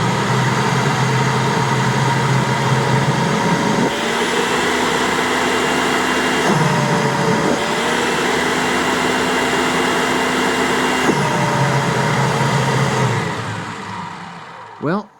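A refurbished Kirby G4 vacuum cleaner runs loud and steady with bag installed and brush roll spinning during a sealed fan case suction test, its whining motor tone dipping and rising as the seal changes, then cutting off near the end.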